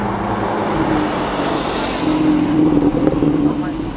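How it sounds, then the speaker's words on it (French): Sports car exhaust popping and crackling on a Monaco street, a loud rumbling engine that builds toward the end with bursts of sharp pops over road noise. "Waouh, le son, les pétarades."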